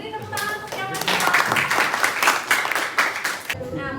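A classroom of students claps in a brief burst of close, uneven applause that swells and stops after a few seconds, with a teacher's voice before and after.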